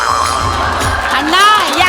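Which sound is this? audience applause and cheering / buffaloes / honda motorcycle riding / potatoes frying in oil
audience applause and cheering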